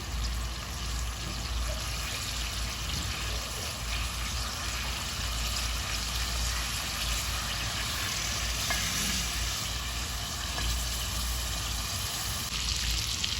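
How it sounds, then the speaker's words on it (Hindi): Meat browning in a little heated oil in a pot for dal gosht, a continuous dense sizzle with faint stirring scrapes throughout, close and fairly loud. "तो हमने थोड़ा सा ऑयल गर्म करके हम गोश्त को भूनेंगे"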